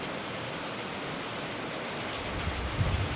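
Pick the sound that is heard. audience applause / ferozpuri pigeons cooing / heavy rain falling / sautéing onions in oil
heavy rain falling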